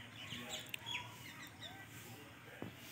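Hens and a rooster cluck and call faintly in the background of a quiet outdoor yard in a village area at dusk, with occasional distant chirps.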